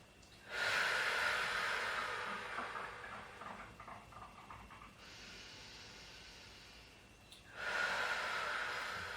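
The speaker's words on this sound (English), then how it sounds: "Deep breath in. Deep breath out." Slow deep breaths during a relaxation segment of a full-body Pilates session, two long noisy inhales and exhales with a quieter stretch between, close and moderately loud with no talking.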